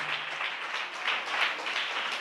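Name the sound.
congregation clapping hands to glorify God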